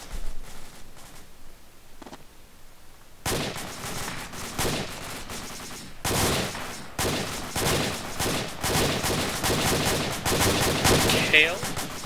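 Gunfire in the tactical shooter Insurgency during a night-time battle at a forward operating base: dense, crackling bursts of automatic rifle fire, fairly close and loud, with a quieter lead-in before the shooting erupts.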